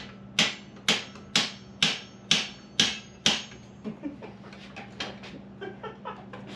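A big hammer smacking a car bumper out in the street: seven sharp, evenly spaced metallic-plastic whacks, loud and close, followed by a series of fainter lighter taps.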